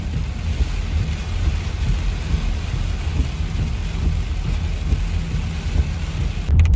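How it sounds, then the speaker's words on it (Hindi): Heavy rain drums steadily on a car body in the Blue Mountains, Australia, with a dense, constant rumble, close and loud throughout. "अब तो भाई बहुत तेज़ बारिश शुरू हो गई है"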